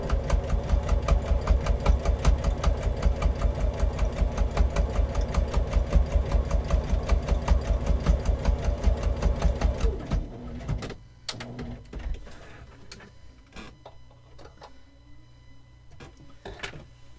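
Sewing machine stitching across very thick fabric from one corner to the other for a boxed-corner storage bin, running loud and fast in a steady rapid rhythm for about ten seconds, then stopping into quieter handling clicks and rustle.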